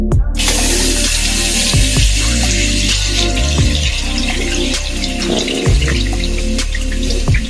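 Water runs steadily from a tap to wet a face mask applicator, a constant hiss that fills the whole stretch under a repeating rhythmic background.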